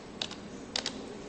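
A few quick keyboard key presses while text is typed into a text box, arriving as two brief clusters of close, crisp clicks against quiet background noise.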